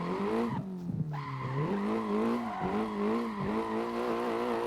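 A Nissan drifts in a video game, its tires squealing in a continuous wavering tonal screech over steady engine noise, close and loud throughout.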